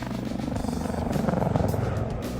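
Helicopter flying with a steady, dense rotor and engine drone that holds loud and close throughout, slightly swelling midway, with no clear talk over it.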